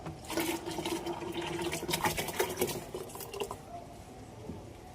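Groundnut cake and neem cake fertilizer is poured into water, producing a close, gushing splash with sloshing and a few light clinks, which fades toward the end.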